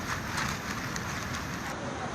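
Rain pours steadily beside a small roadside tea shop on a wet hillside route, a continuous, even hiss of drops on surfaces heard up close with no clear voices.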